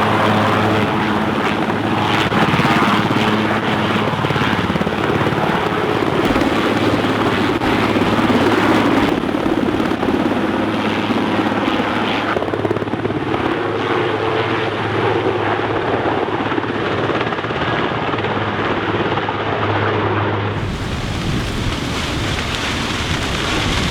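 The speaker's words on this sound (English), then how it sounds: "helicopters refill their payload, bombing the encroaching flames." Firefighting helicopters work over wildfire flames near Knysna in strong winds, their rotor thrum and engine drone loud and continuous for the whole stretch, with a steady rushing noise of wind or rain beneath and no speech.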